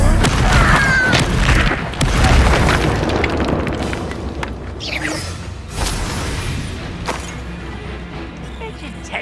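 A Confringo fire spell blasts in Hogwarts Legacy, sending a loud, booming explosion with rumbling debris up front. Several more bursts and sharp pops follow and fade over the next seconds, with game voices speaking over them.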